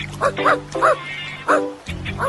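A dog yips and barks several times in quick bursts, close by, with a steady low hum underneath.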